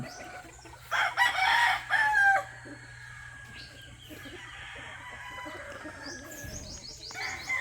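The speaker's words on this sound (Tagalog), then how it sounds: "Oh, ayan po yung kanilang nakuhang stag." A young rooster (stag) crowing on a farm, a single close raspy crow lasting over a second, followed by softer clucking and quieter fowl calls against a low background hum.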